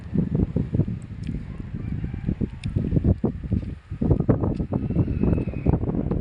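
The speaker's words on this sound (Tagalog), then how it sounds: "ngayon malakas pa rin yung hangin dito sa amin" Strong gusty wind buffets the microphone in a coastal village after Typhoon Ada, with boats pulled ashore at low tide; the low roaring gusts rise and fall steadily throughout, with no voices.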